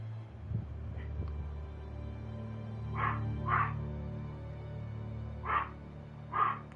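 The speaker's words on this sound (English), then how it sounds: "Don't mind the dogs in the background." Dogs bark in the distance in two short pairs of yaps, faint under a low steady hum, with quiet pauses between the bursts.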